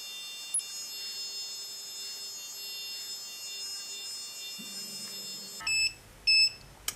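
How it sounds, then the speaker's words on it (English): A short electronic beep from a facial cleansing device, then a quick double beep near the end signalling to stop, over a quiet steady hum. "So it beeps twice then when it wants you to stop."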